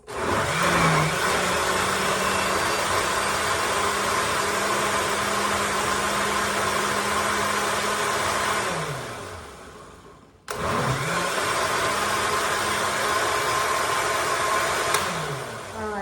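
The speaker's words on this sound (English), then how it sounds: "First, I'm blending here the tomatoes" A blender blending tomatoes whirs loudly and steadily, winding down briefly before starting up again for another run.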